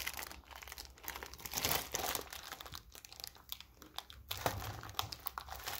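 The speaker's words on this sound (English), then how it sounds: "I'm going to open up the card savers first." Card saver packaging sealed with strong tape being opened by hand: close, quiet crinkling plastic and scratchy picking and tearing in irregular bursts, with small clicks and rustles throughout.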